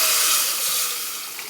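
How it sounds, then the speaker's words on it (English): Water and vegetable bouillon pour into a soup pot in a home kitchen, a continuous bright splashing hiss that tapers slightly toward the end. "So I have the vegetable bouillon and some water. Pour that in."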